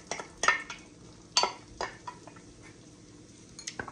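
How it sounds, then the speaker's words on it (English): Jambalaya is stirred in a pot with a metal spoon, giving several close scrapes and clanks against the pot sides over a faint background sizzle. No voices. "We're gonna keep stirring that"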